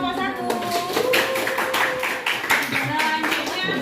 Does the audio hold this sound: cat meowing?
no